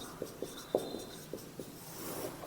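Chalk or marker on a classroom board during a maths lesson on statistics, a series of short tapping strokes and scratches, close and fairly faint with no talk.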